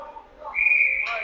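Referee's whistle at an ice hockey game between the Ames Flyers and Chicago Blues, a single sustained shrill blast lasting nearly a second over faint arena noise.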